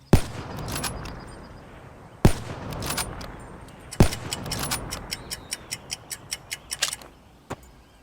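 Black Ops 3 Locust weapon firing: sharp, loud single cracks, then a run of evenly spaced, clicking shots in a quick steady rhythm, with no talking.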